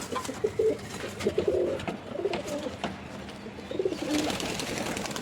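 King pigeons coo in short, soft bursts, several calls close together, with faint rustling and background noise between them.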